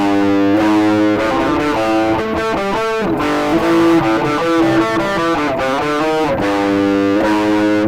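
Distorted electric guitar power chords churn through a loud, sustained riff with rhythmic chord changes and heavy effects-unit grit, played alone without voices.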